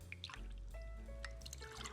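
Lime juice poured from an improvised vessel into a cocktail shaker, heard up close as a short, steady trickle with light dripping over a low background hum.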